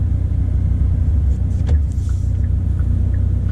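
Hyundai Veloster N turbocharged car on a humid day, engine rumbling steadily with a low droning tone, a brief rise around the midpoint like a gear change, heard from inside the cabin.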